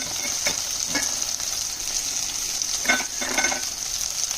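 Sliced brinjal fries in a pan with a continuous close sizzle, broken by a few scraping stirs of a spatula partway through. No voices are heard.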